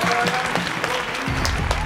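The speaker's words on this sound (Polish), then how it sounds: "Brawa!" A small audience claps steadily for about two seconds after the last-place result is announced at a clothing challenge. The clapping is close and fairly dense, with no voices over it.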